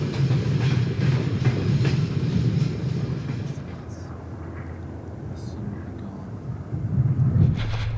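A train rumbles past nearby in Kazakhstan, a loud low roar with rhythmic wheel clatter that eases midway and swells again at the end.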